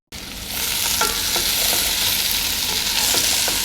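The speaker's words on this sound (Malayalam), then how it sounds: "എന്തായാലും നമ്മളുടെ ഈന്തപ്പഴം വെന്ത് വരട്ടെ" Fresh dates cook in a pan with vinegar nearby for pickle, giving a steady close sizzle with light stirring scrapes and small spatters throughout, no voices.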